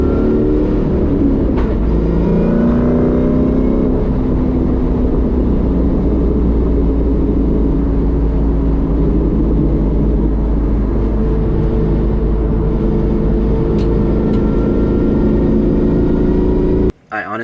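A Mustang with straight-cut gears runs a race track, its engine a loud, continuous rumbling drone with a gear whine rising and falling as it pulls through the gears, and it cuts off abruptly at the end.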